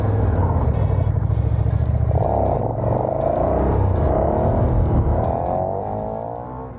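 A big-displacement motorcycle engine holds a steady, loud droning rumble close by through a wheelie, dipping briefly before climbing again with rising pitch.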